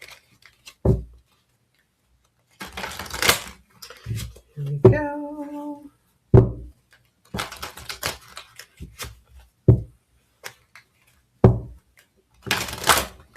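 Tarot cards are shuffled and tapped in a string of sharp, separate clicks and short rustles, close by, with a few brief spoken words between them.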